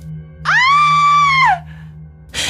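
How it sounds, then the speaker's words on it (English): A woman screams in horror in a single sustained, piercing shriek of about a second, loud and close, over a low steady hum, ending in a brief burst of noise. "She screamed in horror"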